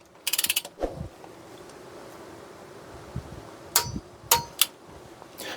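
A torque wrench tightening bolts to 25 newton meters on a 1.4i Opel Corsa Utility engine, with a quick burst of ratcheting clicks, then a few sharp metallic clanks and clicks spaced apart, no talk.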